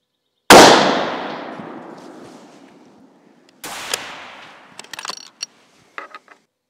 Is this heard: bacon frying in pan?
no